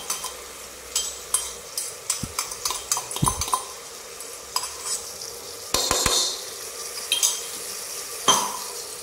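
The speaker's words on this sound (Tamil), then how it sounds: "தயிரை வாங்கி தயிரை வந்து நம்ம நல்லா மிக்ஸ் பண்ணிடணும்." Homemade curd being stirred into biryani masala in a pan, with a spoon scraping and clinking against the metal in irregular bursts, some louder knocks, and a faint sizzle underneath.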